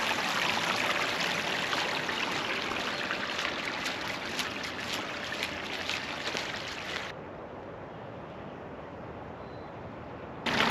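Water rushes out of a drained backyard outdoor ice rink pond as the liner is pulled aside, a loud, continuous broadband gush with no talk, cutting to a quieter flow partway through.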